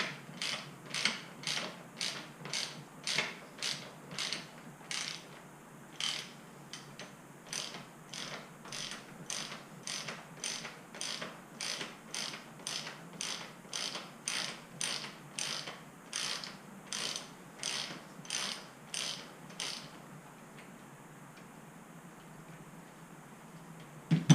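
A ratchet clicks steadily while loosening the top cap of a RockShox Pike, Lyrik or Yari suspension fork, a long run of evenly spaced close metallic ticks in bursts with short pauses, quiet and alone.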